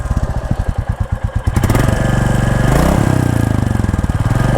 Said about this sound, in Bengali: আর সাইলেন্সারের আওয়াজটা দেখেন